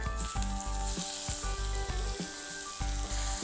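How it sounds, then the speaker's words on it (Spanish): Onion and tomato fry in hot oil in a pan, giving a steady sizzle that is broken by repeated stirring scrapes of a spatula, close and fairly quiet, with no talking. "en el mismo aceite le echas la cebolla"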